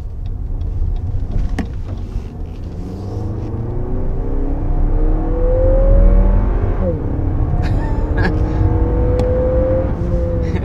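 A 2022 Lexus NX 350 F-Sport accelerating in sport plus mode on a country road, its engine note rising steadily in pitch through the gears under constant cabin road rumble, heard from inside without talk.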